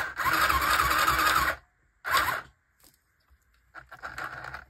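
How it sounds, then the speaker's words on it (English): A mini sewing machine runs back over existing stitches in two bursts, a longer whirring run and then a short one, followed by quieter clicks and a faint third stretch of stitching. "I'm just sewing over the stitches I've already sewn."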